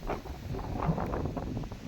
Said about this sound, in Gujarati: અને પવન આવે છે ફૂલ પવન છે